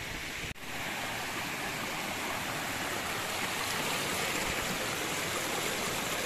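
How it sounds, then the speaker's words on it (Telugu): A small waterfall at Gambhiram reservoir near Vizag gives a steady, dense hiss of falling water, even and moderately loud, with one sharp brief dropout near the start. "చిన్న వాటర్ఫాల్."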